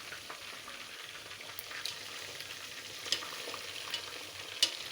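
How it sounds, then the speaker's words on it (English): Chicken feet shallow fry in tomato sauce with a soft continuous sizzle, broken by occasional light scrapes and clicks of stirring, quiet and steady with no talking. "From here now we're going to be frying."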